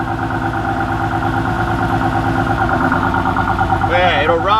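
A Nissan Skyline R31 engine idles while running lean, a steady loud rumble with an even rhythmic pulse throughout, and a voice joins near the end.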